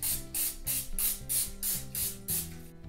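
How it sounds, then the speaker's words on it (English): Pam cooking spray misted onto breakfast chimichangas in about seven quick, evenly spaced hissing bursts, close and clear with no talk. "let's hit the tops with some Pam"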